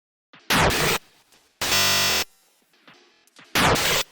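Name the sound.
glitch texture from drum sample run through glitch preset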